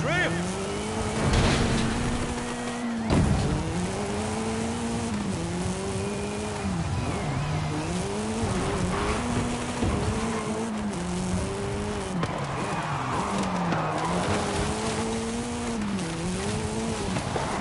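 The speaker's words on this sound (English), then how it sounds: "Oh, nice drift!" Arcade-style car drifting in Forza Horizon 5, a sustained engine drone with wavering pitch and tire squeal as the car slides, loud and continuous under excited commentary.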